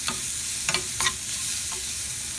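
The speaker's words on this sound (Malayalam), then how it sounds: "ഈ ചോപ്പ് ചെയ്ത് ഗ്രേറ്റ് ചെയ്ത് വെച്ചിരിക്കുന്ന ക്യാരറ്റ് അതിലേക്ക് ഇട്ടിട്ട് ഒന്ന് നന്നായിട്ടൊന്ന് വഴറ്റാം." Grated carrot sautés in a pan with a steady broadband sizzle and a few brief scraping stirs, close and fairly loud, with no voices.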